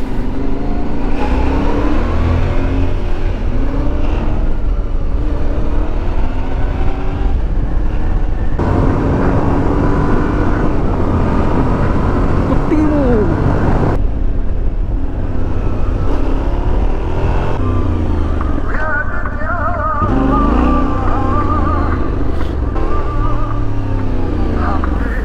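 A Yamaha Tenere 700 motorcycle, new 2022 model, rides along on the road with a steady engine drone and wind rush that rises and falls with gear changes, continuous and close throughout.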